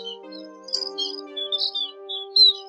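Recorded call of the chim ri đá bird used as a trapping lure, a series of short high chirps and twittering notes over a steady tonal hum, near and clear.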